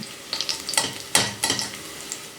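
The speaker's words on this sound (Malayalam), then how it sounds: "സവാള ഒരു ഗോൾഡൻ ബ്രൗൺ കളർ ആവുന്ന വരെ വറുത്തെടുക്കണം." Sliced onions frying in oil for Kerala mutton dum biryani crackle and sizzle close by, broken by several quick stirring scrapes in an uneven rhythm, with no talk.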